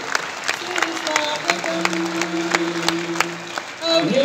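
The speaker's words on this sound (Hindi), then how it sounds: "एक बार पुनः तालियों की गड़गड़ाहट के साथ इस हॉल को गुंजा" An audience in a hall at the CIMAGE Inspiro 2021 event at Gyan Bhawan, Patna, claps in scattered bursts over a steady sustained tone, with a voice speaking alongside.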